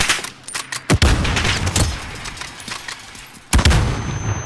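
Gunfire in Call of Duty: Modern Warfare comes in sharp, loud bursts of several close shots, then a lull of fainter distant pops, then another heavy volley near the end.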